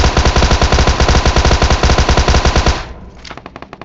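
Rapid automatic gunfire from a video game rattles loud and close in a fast, even burst, stops abruptly, then returns as a thinner string of quieter shots.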